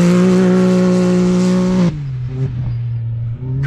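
An off-road desert race vehicle roars past at the VORRA Yerington 300, its loud droning engine filling the first half before the pitch drops as it speeds away, leaving a lower fading hum.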